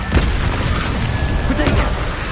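Casting the Incendio fire spell in Hogwarts Legacy gives a loud, close burst of whooshing flame with a booming rumble over about two seconds, while a voice shouts over it.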